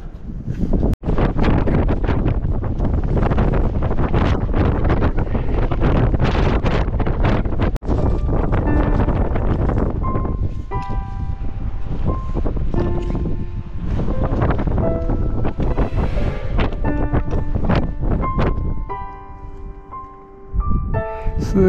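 Powerful, roaring wind gusts on Mount Nasu in deep winter batter the microphone with loud, sustained buffeting that eases somewhat toward the end, leaving fainter whistling and rustling.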